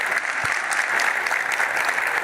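Audience applause following an interview, a short burst of dense, steady clapping at moderate loudness with no voices over it.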